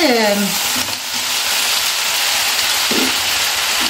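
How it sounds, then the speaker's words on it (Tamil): Okra stir-fry is scraped and stirred in a pan over a steady, close frying sizzle, with spatula scrapes and a brief clack near the end. "வெண்டைக்காய் பொரியல் வச்சாலே இது ஒரு பிரச்சனை. அடி பிடிக்குதோன்னு கிளறி விட்டாலும்"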